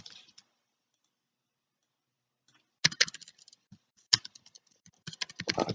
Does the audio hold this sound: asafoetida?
no